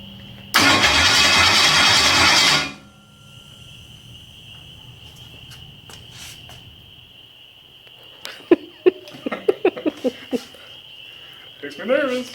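A Ford 302 V8 in a 1966 Bronco cranks over in a loud two-second burst on its first start, then drops to a quiet, near-silent stretch with scattered short knocks and clicks after it.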